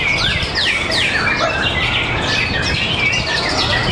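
Oriental magpie-robins sing continuously at a bird-song contest in Sentul, Bogor, with repeated bright whistled phrases and chirps layered over a dense crowd of other birds and a steady background din.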